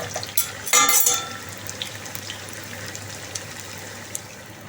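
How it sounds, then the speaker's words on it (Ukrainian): Dough pies (pirozhki) fry in oil in a pan, giving a soft steady sizzle with a brief clatter of a utensil against the pan near the start, close and fairly quiet. "І продовжуємо смажити."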